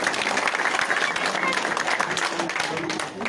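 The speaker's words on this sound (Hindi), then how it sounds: "मैं आपसे गुजारिश करता हूँ कि जोरदार ताली के साथ उनका स्वागत करें" A street crowd at a political party meeting breaks into loud, dense applause, many hands clapping close together, with a voice talking over it.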